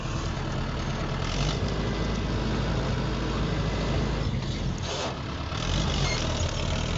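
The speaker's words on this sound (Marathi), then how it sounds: "बघा भावांनो असं कोण चालतो का ट्रॅक्टर?" A tractor engine runs steadily while being driven, a continuous low rumbling drone with rough broadband noise, loud and close throughout with no speech.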